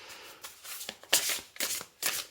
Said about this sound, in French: Alors, je vais vous tirer une dernière carte.